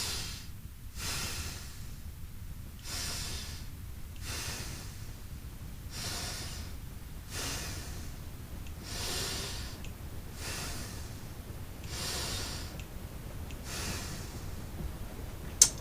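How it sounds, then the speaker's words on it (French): Slow, deliberate nasal breathing during a fascia stretching practice, six cycles of in and out through the nose, each breath a soft airy rush at a steady, even rhythm, close and quiet. "Et on inspire, expire 6 fois avec le nez."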